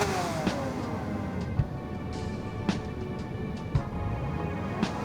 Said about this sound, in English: You see the engine's actually revving itself up for some reason.